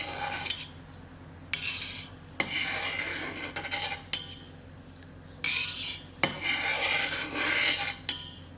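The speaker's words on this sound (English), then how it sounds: "it says to make a grid pattern with your knife, about 1/2 inch to 1 inch strips" A knife scrapes and clinks in repeated strokes through soft homemade mozzarella curd in a pot, cutting a grid of half-inch to one-inch strips, with broadband rasping bursts and sharp metallic ticks at close range and no talking.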